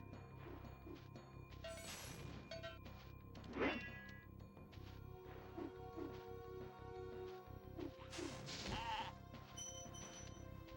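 Sheep bleats from the Spyro the Dragon video game, a couple of short wavering cries amid busy game music and effects, faint overall, with no talking.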